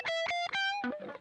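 A distorted instrument tone played through an effects unit on a Donkey Kong Country jam, a few short buzzy, harmonic-rich notes in quick succession, clear and alone.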